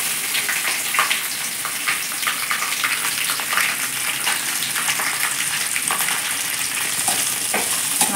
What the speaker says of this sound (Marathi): चांगलं भाजलं की कांदा टाकायचा.